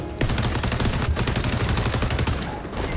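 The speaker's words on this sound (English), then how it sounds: "Stop shooting at me." Rapid gunfire rattles through an XDefiant match, dense overlapping automatic shots in a loud, continuous burst lasting about three seconds, with no talk over it.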